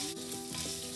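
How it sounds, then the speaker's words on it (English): Ginger sizzling in hot oil in a pan while being stirred, a steady close frying hiss with soft scraping, brief and without voices, cooking for a South Indian kuzhi paniyaaram breakfast. "Ginger. Stir for a while."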